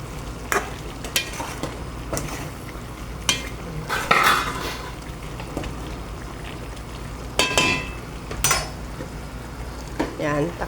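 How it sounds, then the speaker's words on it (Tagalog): A spoon scrapes and knocks around a cooking pot of adobo soon after sugar is added, with irregular clinks and scrapes over a low sizzle from the stove. "Haluin natin ng konti."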